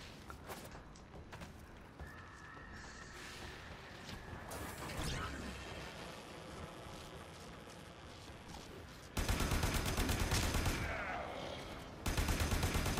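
A gun fires in the Warframe video game: loud bursts of rapid shots break out near the end over a busy bed of mechanical clanks and game effects.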